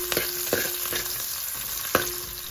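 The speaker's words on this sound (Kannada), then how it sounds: "ಇದಕ್ಕೆ ಎರಡು ಎಸಳು ಕರಿಬೇವು, ಹಾಗೆ ಒಂದು ಈರುಳ್ಳಿನ ಹಾಕಿ ಸ್ವಲ್ಪ ಫ್ರೈ ಮಾಡಿಕೊಳ್ಳಿ." Onion and curry leaves frying in hot oil in a pan for a crab and prawn curry, a steady sizzle broken by several sharp stirring scrapes, close and moderately loud with no talk.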